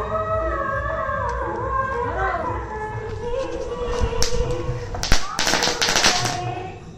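A small tubri fountain firework bursts near the end as a quick cluster of crackling pops, following several seconds of people talking and a droning background hum.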